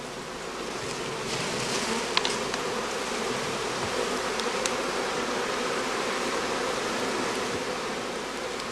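Honeybees buzz steadily around heather skep hive boxes at a bee farm during the cast swarming period, a dense, continuous swarm hum close by with no voices.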